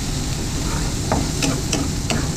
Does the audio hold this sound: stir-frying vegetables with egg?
yes